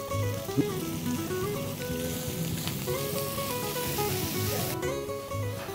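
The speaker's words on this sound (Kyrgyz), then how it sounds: "Алгач фаршты салып кууруп алабыз." Minced meat frying in a pan gives a steady, close crackling sizzle that runs unbroken from start to finish, with no voices over it.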